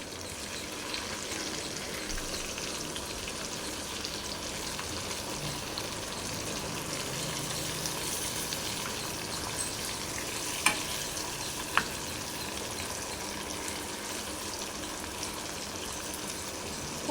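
Masala-coated fish sizzles steadily in a pan, a continuous soft frying crackle with two sharp clinks as the pieces are flipped partway through.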